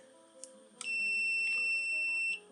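A long, steady high-pitched electronic beep from a Tooltop X6 clamp meter sounds for about a second and a half, clear and close, preceded by a couple of faint clicks.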